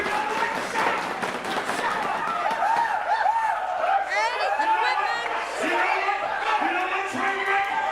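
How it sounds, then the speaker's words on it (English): Wrestling crowd roaring in an arena, a loud, sustained wave of cheering and shouting with a commentator's voice talking over it the whole time. "This crowd erupts."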